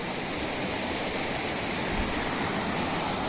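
Shikhar Fall, a hidden waterfall near Rispana in Dehradun, roars as a loud, continuous rush of falling water with no pauses or voices.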